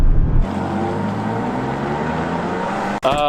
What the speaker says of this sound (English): So this Sport Plus, I revved it as far as it'll let me go.